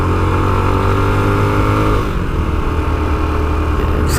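Honda XR250 L dual sport motorcycle climbing a road, a steady close engine drone with a shift in pitch partway through, continuous and loud.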